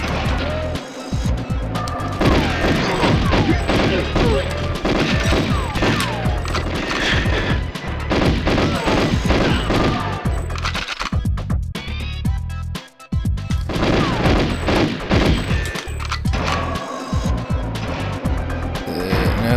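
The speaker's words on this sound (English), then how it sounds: "What the heck is shooting at me?" Dense, near-continuous gunfire and explosive crashes from the video game GoldenEye 007 Remastered, shots aimed at the player in a Cuba control center level, loud and sustained with bursts and booms throughout.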